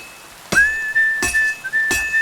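Three sharp metallic clangs in the video game Kingdom Come: Deliverance II, spaced about a second apart, each leaving a long bright ringing tone, a blacksmith's hammer striking an anvil.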